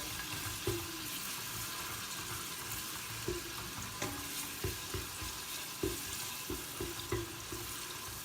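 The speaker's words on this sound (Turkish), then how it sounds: "Şimdi güzelce kıymayı kavurup üzerine soğanı dökeceğim." Minced meat fries in a pan with a steady, faint sizzling hiss, broken by occasional small clicks and taps of a utensil against the pan.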